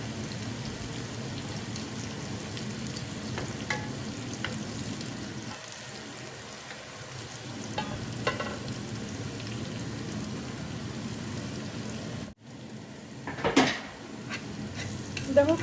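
Onions and fish fry in a pan with a continuous, fairly loud sizzle and crackle, punctuated by occasional stirring scrapes and a louder clatter near the end.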